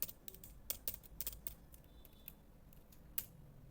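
Typing on a computer keyboard while writing a project name for a simple calculator program: sparse, quiet clicks in a few quick clusters with pauses between, close and soft over faint room noise.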